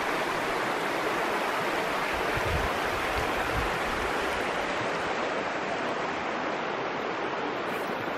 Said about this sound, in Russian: Очередная бурная речушка.